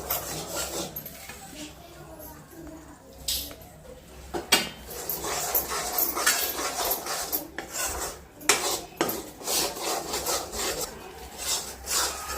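Gram flour roasting in ghee in a pan, stirred with steady rasping scrapes and occasional knocks of a utensil against the pan, close and continuous, with no talk.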